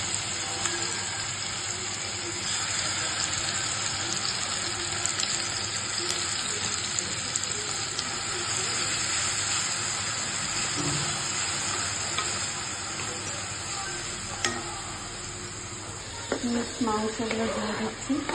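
Ginger, onion and garlic paste frying in oil in a pan, a steady close hiss and sizzle with light stirring scrapes throughout, near the end some clattering.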